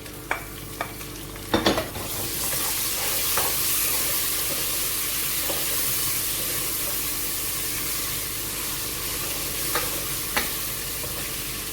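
A loud burst as tomatoes, ginger and green chillies hit a hot pan of browned onion and garlic, then a steady sizzling hiss with occasional soft scrapes and clinks of stirring.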